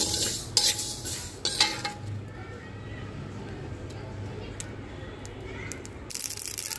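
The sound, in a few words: frying mustard seeds, black cumin and panch phoron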